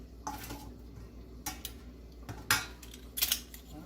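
Hot cooked potatoes being squeezed, giving a few sparse, quiet metallic clicks and scrapes separated by pauses, with no voice present.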